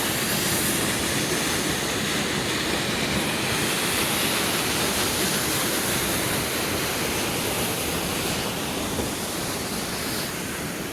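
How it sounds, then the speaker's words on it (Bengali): A waterfall near Rudranag temple on the Kheerganga trek gives a dense, unbroken roar of rushing water that stays loud and constant throughout. "রুদ্রনাগ টেম্পলের কাছে একটা ওয়াটারফল আর একটা এই ব্রিজ রয়েছে।"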